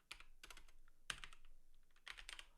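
Bursts of clicky keystrokes on a computer keyboard come in quick clusters with short pauses between them, close and quiet, with no voice.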